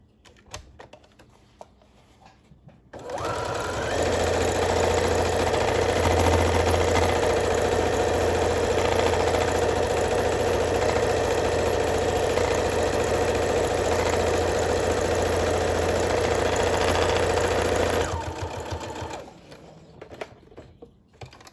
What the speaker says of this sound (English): I have stitched a little narrow hem on both of these edges